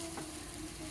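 Nuts fry in a pan over medium heat, a steady close crackling sizzle with a brief stir near the start.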